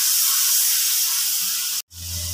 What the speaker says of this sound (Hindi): इसको भून लेते हैं मसाले को।